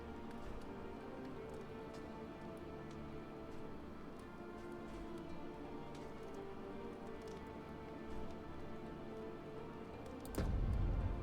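Rain ambience in the dark fantasy game Darkest Dungeon 2, a soft, steady patter of drops with faint ticking, quiet and continuous, ending in a brief louder low rumble.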